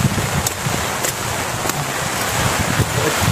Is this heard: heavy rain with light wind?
yes